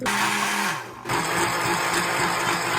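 A blender whirs loudly while mixing funnel cake batter, a dense continuous grinding roar that briefly dips and cuts out before starting up again at full strength.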